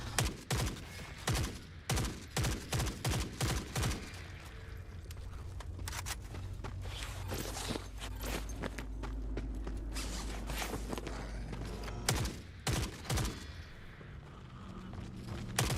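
Gunfire in the shooter Forever Winter: bursts of sharp shots cluster early on, recur sporadically through a steady rumbling backdrop, then return in a dense volley near the end.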